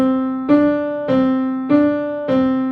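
Four evenly spaced piano chords played around middle C with both hands, each struck and left ringing before the next, in a simple repeating exercise pattern.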